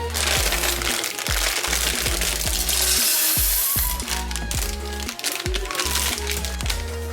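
Dry noodle pasta shells dropped into hot oil in a pan, crackling and sizzling with sharp crunchy pops and rattles as they land and fry, close and continuous.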